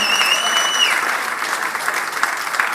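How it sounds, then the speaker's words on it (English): Steady applause for the women's pistol gold medal winner at a shooting World Cup in Bhopal, a dense, even wash of clapping from a moderate crowd, with a brief electronic tone sounding at the start. "please put your hands together for a round of applause for the 20-meter pistol women gold medal winner"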